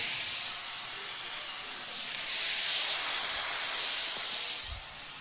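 Onions go into a pan of cauliflower, potato and tomato frying with turmeric, giving a loud, steady frying hiss that swells midway and stays strong to the end.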